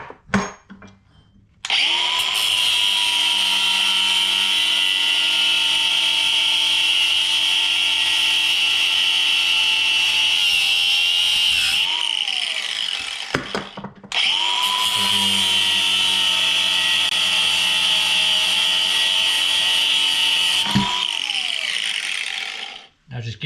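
A loud, close power tool whines steadily while cutting off the end of a cheap plastic-and-metal horizontal MFT-style clamp, running in two long sustained bursts with a brief pause between, pitch dipping slightly under load.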